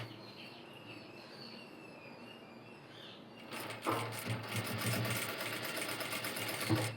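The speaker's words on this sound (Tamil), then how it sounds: "2 தடவை மடித்து அந்த எட்ஜில் வந்து தையல் போடணும்." A sewing machine stitching a twice-folded quarter-inch edge on fabric, first a quiet lull, then a steady fast whir of stitching close by.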